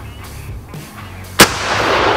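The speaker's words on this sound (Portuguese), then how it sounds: "Um disparo no branco e um disparo no amarelo." A single loud, sharp gunshot cracks out during a tactical shooting drill at white and yellow targets, following a quiet stretch and trailing into lingering background noise.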